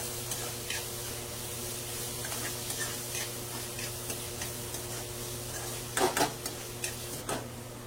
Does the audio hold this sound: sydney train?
no